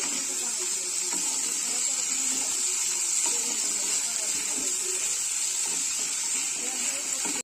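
Cold water pours in a continuous rushing stream into a pan of hilsa fish curry with brinjal and bean seeds, loud and close, then cuts off abruptly at the end.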